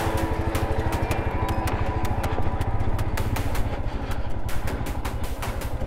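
Motorcycle engines rumble at a Sunday bike gathering, a steady close idle with a regular pulsing beat and clattering mechanical ticks running throughout, with no voices heard.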